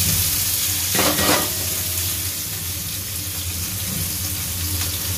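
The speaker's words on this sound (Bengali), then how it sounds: "এবার আমি পেঁয়াজগুলোকে ভাজবো" Chopped onions fry in hot oil in a pan, a steady crackling sizzle broken by a couple of stirring scrapes around the one-second mark, close and fairly loud, with no talking.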